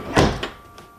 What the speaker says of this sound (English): With the strike plate installed, we're ready to see how the door closes.